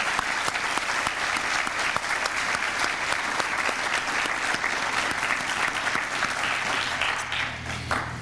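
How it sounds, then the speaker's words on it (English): An audience at a 2009 community service awards ceremony claps steadily for elementary students, a sustained, even wash of applause that holds throughout. "if we could just take a moment and clap for all the elementary schools"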